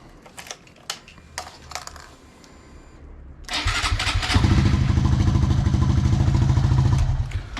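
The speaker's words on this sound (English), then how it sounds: "in terms of cranking, turning the engine over" A Honda Monkey 125 motorcycle engine cranks over on a lead-acid battery with a steady, rapid chugging from the starter that runs for several seconds, loud and close, after a few sharp clicks and taps.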